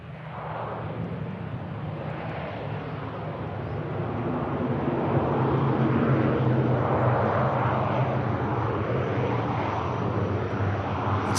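A fixed-wing airliner lands and brakes on the runway at Manchester Airport, a broad distant engine roar that swells in the middle as reverse thrust builds, then holds steady as the aircraft slows.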